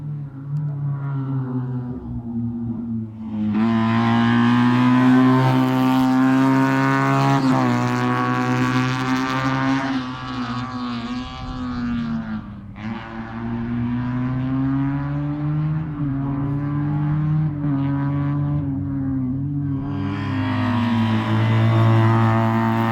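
Race cars during a motor race event, heard as a loud sustained engine drone with shifting pitch as cars pass and rev, steady and continuous with no talking.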